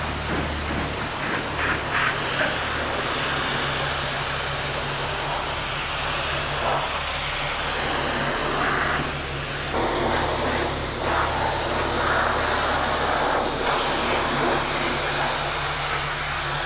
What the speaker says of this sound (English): I think we're going to stop at the car wash.